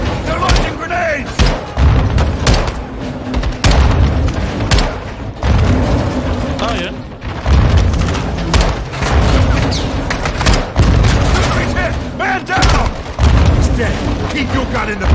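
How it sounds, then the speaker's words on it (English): Grenade explosions burst repeatedly in a Call of Duty Modern Warfare II firefight, loud sharp booms every second or so mixed with gunfire and shouted talk throughout. "Incoming! Take cover! They're launching grenades!"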